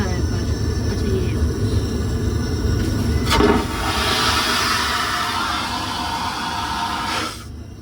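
A toilet flush in the small washroom of a train, a loud sustained rushing whoosh that swells after a sharp onset and runs for several seconds over steady train rumble, then cuts off abruptly, with a voice talking faintly nearby.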